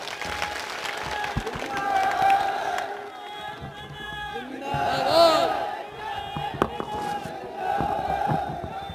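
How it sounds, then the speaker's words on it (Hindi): A large crowd at a political rally in Osian fills the air with sustained cheering, clapping and shouts that rise and fall in waves, with a voice over a loudspeaker heard speaking through the din. "क्योंकि बहुत ज्यादा भीड़ है"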